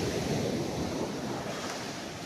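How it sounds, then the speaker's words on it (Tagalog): Ocean waves wash onto a sandy beach at sunrise in Sorsogon, a continuous close roar of surf mixed with wind rumble on the microphone, without speech. "Walking in the waves."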